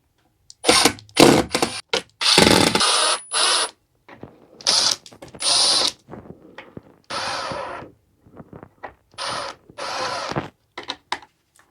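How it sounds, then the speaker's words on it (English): A power drill drives screws through a ceiling fan's mounting plate into the ceiling in several separate bursts, each a few seconds of loud whirring and ratcheting, with short quiet gaps between them and no talking. "we're now going to screw the mounting plate on"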